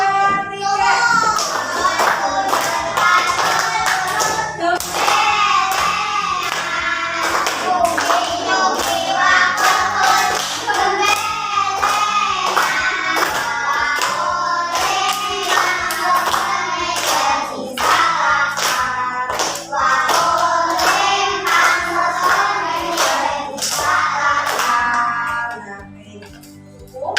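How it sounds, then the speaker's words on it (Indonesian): Children in a classroom clap hands in rhythm while singing the Javanese song Gundul Pacul, sharp regular claps running under the young voices for the whole song before fading out at the end. "Kita hitung sambil tepuk tangan ya"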